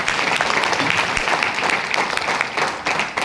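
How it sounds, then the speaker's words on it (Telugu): A large audience applauds steadily, a dense wash of clapping hands that stays loud and even throughout. "ఒకసారి మీకు బిగ్ రౌండ్ ఆఫ్ అప్లాజ్"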